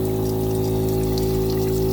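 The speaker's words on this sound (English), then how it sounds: "The water pump is a little bit on the loud side, but that's okay as long as it's dispensing water properly." An electric water pump built into a faucet in a 2007 Honda Odyssey minivan's rear kitchen hums with a steady, fairly loud tonal whine while water pours into a sink beneath it, unbroken and without voices.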